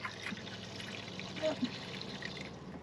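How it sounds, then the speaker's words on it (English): Water runs steadily through a faucet-mounted tap water filter, a continuous soft trickle and hiss heard close by for the whole stretch, with low background noise and a faint voice briefly underneath. "So you're going to turn the water on up top."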